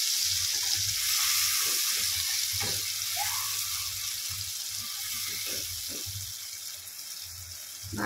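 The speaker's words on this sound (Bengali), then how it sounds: "ভালো করে এটা কষাতে থাকবো।" Spice paste sizzles and fries steadily in a pan, with intermittent scraping and stirring strokes, for a vegetarian brinjal dish, close and continuous with no talk.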